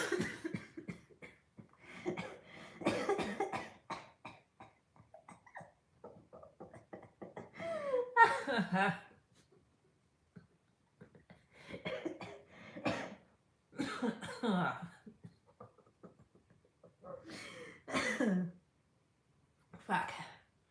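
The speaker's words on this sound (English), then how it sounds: "It's coughing and laughing at the same" Bursts of coughing mixed with laughter recur several times, close and fairly loud, with breathy gasps and short pauses between fits.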